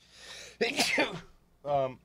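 A single sneeze bursts out close by, then a short voiced sound follows a moment later.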